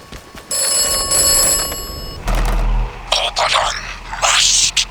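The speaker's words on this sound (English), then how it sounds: "telephone's ringing" A telephone rings in a video game, a steady electronic trill repeating in bursts, followed by scraping and clattering game sounds; a voice talks briefly.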